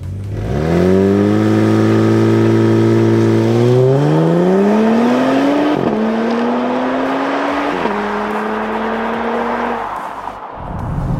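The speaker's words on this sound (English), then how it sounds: "I'm gonna test the acceleration. This thing's got the launch control." A 2022 Genesis G70 Sport AWD launching hard in Sport Plus with launch control, its engine roaring loud and close and climbing in pitch through several upshifts, each marked by a brief drop before the revs rise again.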